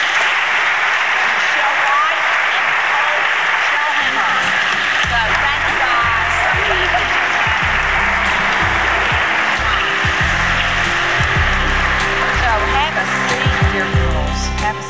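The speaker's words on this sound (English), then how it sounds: "please, let's clap for them, but also a warm clap." Audience applause for a group at a church gathering, a steady wash of clapping running the whole stretch, joined midway by a low rhythmic music bed underneath.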